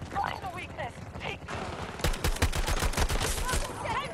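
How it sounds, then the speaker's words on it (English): Intense automatic gunfire and explosive shots in Battlefield 2042 multiplayer, dense rapid bursts from several directions following a stretch of distant voices, loud and continuous through the second half. "why am I being shot from every direction?"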